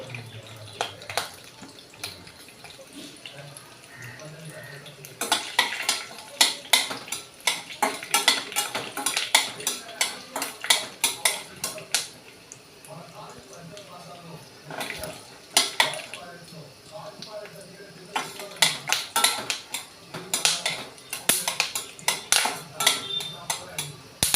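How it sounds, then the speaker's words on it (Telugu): Peanuts fry in hot oil in a pan for an ivy gourd and peanut stir-fry with salt and chilli, with repeated bursts of metal spoon scraping and clattering as they are stirred, loud and close, with quieter pauses between. "పల్లీలేమో తీసుకొని ఇందులో ఆయిల్లో వేసి వేయించుకొని ఇవి బాగా వేగాలి"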